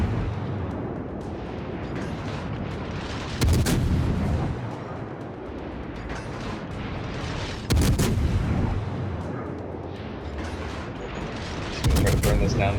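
Gunfire in a first-person shooter game, loud bursts of shots at about 3.5, 8 and 12 seconds over a steady background of battle noise, with a player talking throughout.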